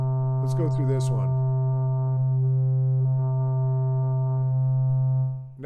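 A steady, buzzy Arturia Pigments 3.5 synthesizer preset drone holds a single pitch for several seconds, rich in harmonics, with a brief voice heard near the start and faint clicks over the sustained tone.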